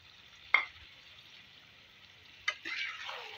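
Tomatoes fry in oil in a karahi, with a faint low sizzle under two sharp scraping strokes of a spoon and a brief burst of frying as the pan is stirred, close and quiet.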